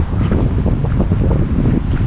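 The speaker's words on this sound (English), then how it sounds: "Away from the wind" Steady wind buffets the microphone at a riverside fishing spot on Cooks River, a continuous broadband roar with gusty low rumble and no speech.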